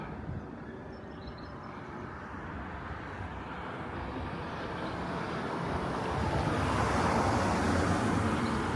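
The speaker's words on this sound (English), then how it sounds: "Excuse the noise of the traffic." Road traffic passing through a village, a broad steady roar of vehicles that swells louder as one approaches near the end, with no talk over it.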